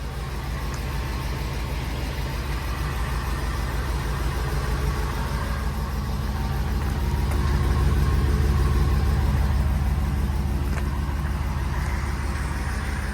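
A 2016 Ford E350 box truck engine idles with a smooth, quiet, low rumble that holds steady throughout and swells slightly near the middle.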